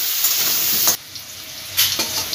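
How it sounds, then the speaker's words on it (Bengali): Potato pieces fry in hot oil seasoned with salt and turmeric in a home kitchen, giving a steady bright sizzle that drops off briefly twice, as if stirred, then hisses back up. "আলুগুলো ভাজা হোক।"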